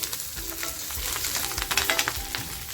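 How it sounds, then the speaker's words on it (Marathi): Curry leaves crackle and sizzle in hot oil in a pan for a restaurant-style mutton pepper fry, a close, steady frying hiss scattered with quick popping crackles and no talking. "तर बघा कढीपत्त्याचा आवाज कसा असा तड तड येतोय"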